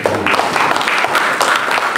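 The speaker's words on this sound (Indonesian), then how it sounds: "Berikan tepuk tangan." Congregation applauding during a church sermon at a prayer and fasting gathering on Gunung Salak, Bogor, a steady dense patter of many hands clapping throughout, fairly loud, with no voice over it.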